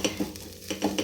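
A spatula scrapes and tosses egg kothu idly in a frying pan over a soft sizzle, with four or five quick rhythmic stirring strokes close up.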